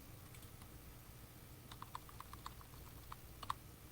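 Soft typing on a computer keyboard, a quiet irregular patter of clicks that picks up in the second half, close and faint against a low room hum.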